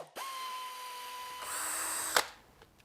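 A power drill or impact tool whirs steadily while removing 10 mm cover bolts during a Nissan VQ40 engine teardown, one sustained run that rises in pitch and ends with a sharp clack, close and loud.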